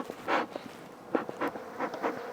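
Honeybees buzzing during an aggressive three-way hive split: faint, uneven swells of buzzing that come and go as insects pass nearby.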